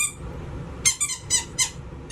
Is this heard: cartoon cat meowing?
no